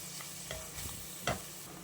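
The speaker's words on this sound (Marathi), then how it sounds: "हे जे खोबऱ्याचं वाटण केलेलं आहे मी अगदी दोन चमचे घेतलेलं आहे ते इथे फ्राय करून घेऊया" A spoonful of ground coconut paste fries gently on low heat for a spicy chicken gravy, with a soft, steady sizzle broken by a few scraping stirs and one sharper clink near the end.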